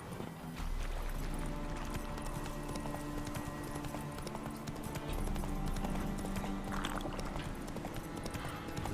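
Roach the horse galloping in The Witcher 3, a quick, steady clip-clop of hooves close by, running continuously with a faint game ambience beneath.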